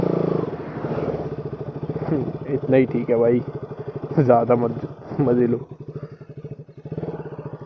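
A motorcycle idles with a steady, throbbing low putter while it is being parked, running loud and close under someone talking.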